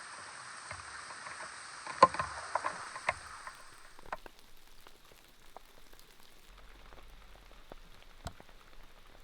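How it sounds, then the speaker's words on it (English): Rain falls at a house renovation site in Montenegro: a faint, steady patter for about four seconds, with a few louder drips, then it fades to a quieter hiss with occasional scattered drops. "Again, a lot of rain."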